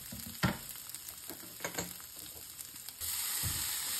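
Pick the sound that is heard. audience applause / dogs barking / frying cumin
frying cumin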